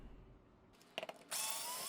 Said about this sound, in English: So I'm actually getting a pretty good workout using my ratchet.